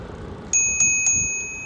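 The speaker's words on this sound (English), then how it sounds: "I ring my bell." A bell on a golf cart riding a shared path rings three times in quick succession, close and crisp, with each bright ding fading before the next, over a quiet background.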